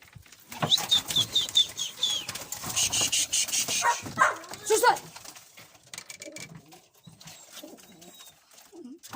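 Pigeons burst out of a rooftop coop and take off, with a flurry of flapping wings and a few bird calls. Someone talks intermittently over the clatter, and a dog barks somewhere nearby.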